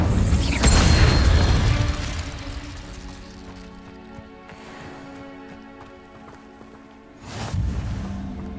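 A fire spell cast in a magic video game erupts in a loud, roaring whoosh and rumble that fades into a low mechanical hum, followed by a second burst near the end.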